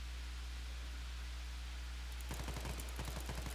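A three-round burst rifle firing in a video game: after steady background hiss, several quick clustered bursts of sharp shots arrive near the end, fairly faint.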